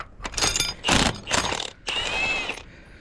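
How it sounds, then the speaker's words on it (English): A metal hose clamp is worked loose from lines on an M670 military truck, a few close ratcheting and clicking mechanical bursts separated by short pauses. "so take this clamp off"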